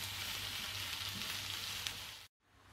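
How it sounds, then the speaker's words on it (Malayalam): Onions and shallots sautéing in a pan over a high flame, a steady close sizzle and hiss that holds evenly before stopping abruptly and then faintly returning. "ഇനി ഈ സവാളയും ചെറിയുള്ളിയൊക്കെ നന്നായിട്ടൊന്ന് വഴന്ന് കിട്ടണം."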